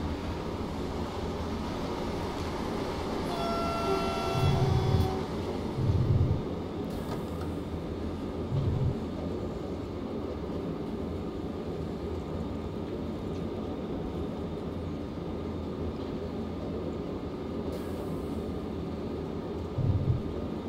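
ÖBB Railjet train running from München toward Rosenheim in Train Simulator Classic, a quiet steady rolling rumble with a brief tonal whine and a few soft rail thumps, no talk.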